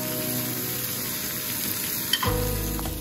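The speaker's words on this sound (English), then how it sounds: "cook the beef in the bacon fat in small batches. Brown the beef evenly on all sides" Beef pieces brown in hot bacon fat in a pan, sizzling steadily and close, with a sudden louder crackle burst near the end as more meat hits the pan.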